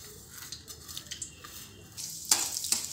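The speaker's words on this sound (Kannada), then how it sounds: "ಇಲ್ಲಿ ಎಣ್ಣೆ ಕಾಯ್ದೈತಿ. ನಾನು ಫಸ್ಟಿಗೆ ಉದ್ದಿನ ಬ್ಯಾಳಿ, ಕಡ್ಲೆಬ್ಯಾಳಿ ಮತ್ತು ಸಾಸ್ಬಿ, ಜೀರಿಗೆ ಹಾಕ್ಕೊತೀನಿ." Urad dal, chana dal, mustard seeds and cumin dropped into hot oil, a soft sizzle with scattered pops, then a louder burst of spattering crackle near the end, close by and with no talking.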